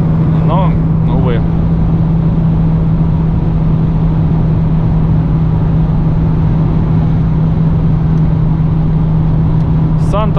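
A Renault Logan with a CVT transmission drones at steady high revs on the highway, its loud, constant interior engine hum running throughout with a voice faintly over it.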